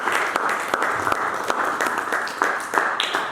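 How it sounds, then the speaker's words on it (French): A church congregation applauding together, a dense run of hand claps with rhythmic accents, fairly loud and close, without speech. "Acclame Jésus, acclame le Seigneur."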